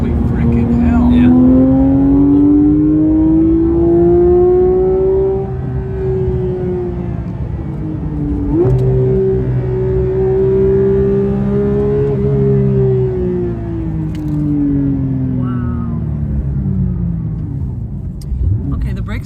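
A Porsche 911 GT3 engine pulls hard while driving, its loud, close exhaust note climbing steadily in pitch, dipping briefly at a gear change, then rising again through a sustained high-revving run.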